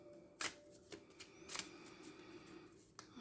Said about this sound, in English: I'm having trouble shuffling today